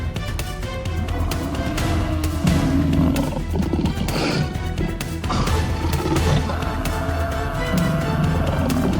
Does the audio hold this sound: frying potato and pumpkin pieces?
no